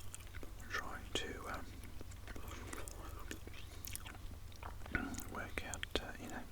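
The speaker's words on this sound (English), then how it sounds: "The chewing gum, I think this is the first where the chewing gum got introduced to the channel" Gum chewing close to the ear alongside soft whispering, with moist, irregular smacks and clicks scattered throughout under a steady low hum.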